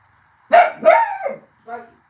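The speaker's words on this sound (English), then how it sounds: "Where are you barking at?" A pet dog barks indoors, close and loud: two sharp barks in a row, then a shorter, softer yip after a short pause.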